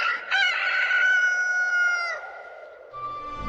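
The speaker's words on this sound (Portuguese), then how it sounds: "o galo cantou pela segunda vez" A rooster crows once, loud and close, as a single drawn-out cock-a-doodle-doo followed by a faint low sound at the end.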